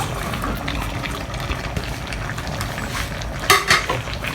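A utensil stirs chicken fillet, pechay and potatoes in a pan, with a steady soft scraping and sizzle throughout and a couple of louder clanks of metal on the pan near the end.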